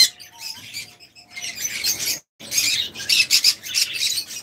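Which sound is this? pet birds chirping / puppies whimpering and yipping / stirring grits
pet birds chirping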